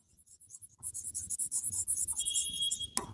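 A pen scratches across paper while an accounting problem is worked out by hand, producing quick, close, scratchy strokes in a steady rhythm with short pauses and a sharp tap near the end.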